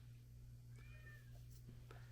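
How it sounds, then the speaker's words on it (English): A female cat in heat meows outside a door to be let in. A couple of faint, drawn-out calls rise over a low steady indoor hum, distant and quiet. "should let my cat in"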